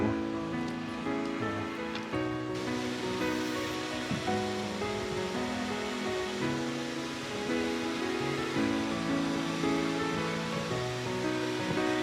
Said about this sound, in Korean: 절구 폭포랍니다